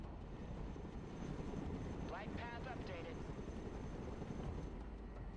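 A Chinook helicopter flies in the Broken Arrow war game, giving a steady, moderately loud rotor and engine drone with a brief rising whine in the middle.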